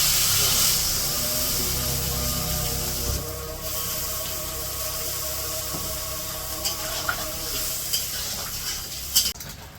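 Turmeric, chili powder and salt fry in a pan for an ilish fish curry, producing a continuous hiss and sizzle with occasional stirring clinks near the end.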